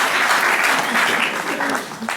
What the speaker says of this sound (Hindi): एक बार तालियां इनके लिए भी जोरदार।